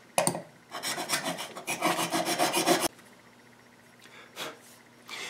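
Chisel bevel being sharpened on a cheap sharpening stone, a steady rhythmic rasping rub for nearly three seconds, then a quieter pause with a couple of short scrapes, close and loud.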